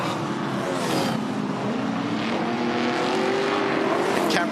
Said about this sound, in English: Cameron Tilley driving the pacer on the throttle coming out of turn 3.